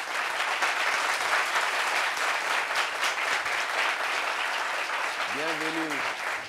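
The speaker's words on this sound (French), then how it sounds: "Applaudissements pour lui, s'il vous plaît." An audience claps to welcome a guest at a neighbourhood gathering, a sustained, even round of applause. A voice briefly cuts in near the end.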